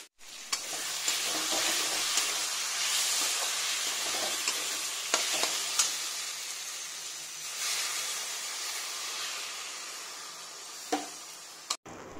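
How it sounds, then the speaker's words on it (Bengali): Sattu sautés in a pan with a steady close sizzle and hiss, broken by a few sharp clicks and stirring scrapes, with no voices. "ছাতুটা কষানো হয়ে গেল"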